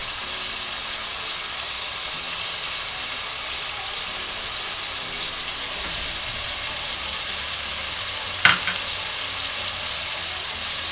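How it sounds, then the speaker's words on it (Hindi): Chicken frying in a haandi pot after ginger garlic paste is added gives a steady, even sizzle throughout, with one short sharp clatter near the end and no talking. "अब मैं इसमें शामिल करूंगी अदरक लहसुन का पेस्ट।"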